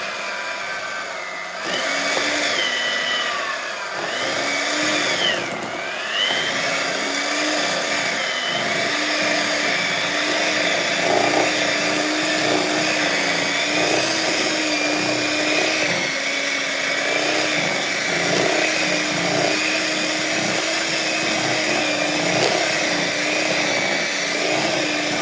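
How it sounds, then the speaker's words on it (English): A blender runs continuously while grinding cloves for clove butter, a loud, steady mechanical whir whose motor pitch shifts now and then as the load changes. "I don't know if a blender will work."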